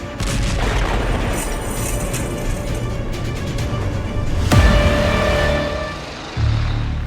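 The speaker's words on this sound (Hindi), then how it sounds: "फिर कुछ ही सेकंड बाद यहां हुआ जोरदार धमाका" An Israeli air strike lands as a loud, sharp explosion, a single heavy blast bursting out of a dense, roaring rumble that carries on and fades away afterward.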